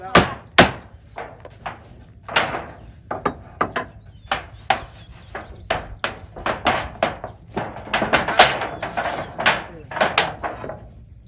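Repeated sharp hammer blows ring out as nails are driven into a hut roof, close and uneven in rhythm, growing quicker toward the end, with a faint voice and a steady high whine behind.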